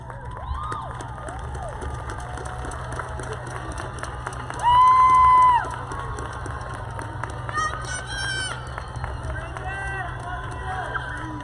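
Graduates at a Class of 2019 graduation ceremony applaud and cheer toward the audience, a steady crowd roar of clapping and shouts with a brief loud whistle-like tone in the middle.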